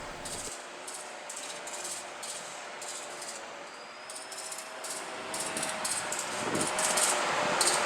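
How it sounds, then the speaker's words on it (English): Custom-built AEM-7 electric locomotive in a train simulator game: a steady electric hum and hiss with a faint tonal whine, rising gradually louder toward the end, with no voices. "I made a custom engine sound for the AEM-7"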